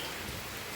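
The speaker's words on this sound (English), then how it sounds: "It is raining." Steady rain falls in a continuous, even hiss of drops close by, with no voices.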